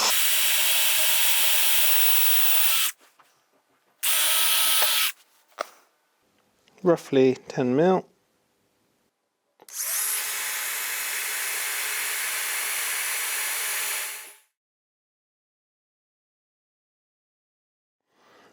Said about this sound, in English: nice fast with the drill.